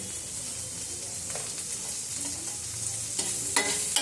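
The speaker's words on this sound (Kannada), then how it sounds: "ಇದು ಮಿಕ್ಸ್ ಮಾಡಿ ನೋಡಿ ಫ್ರೆಂಡ್ಸ್, ಇವಾಗ ಇದು ಫ್ರೈ ಆಯಿತು" Tomato with turmeric and salt sizzles in a pan while being stirred, a steady frying hiss with scraping spoon strokes that grow more pronounced toward the end.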